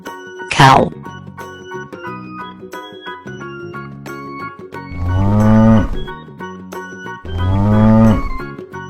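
A cow moos twice in long, loud, low calls near the end, heard over a bright musical backing with a short high squeal early on.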